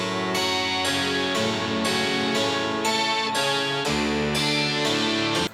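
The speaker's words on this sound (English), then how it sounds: "And the track that completes it is the harpsichord." Guitars and harpsichord play together in a layered production arrangement for a track, a dense sustained texture with steady rhythmic plucked attacks recurring about every half second, loud and continuous, no voices.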